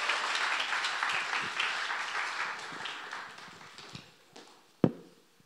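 An audience at a young adults' Sunday church service applauds to welcome the pastor to preach, a dense wash of clapping that fades gradually, ending with a couple of isolated sharp claps.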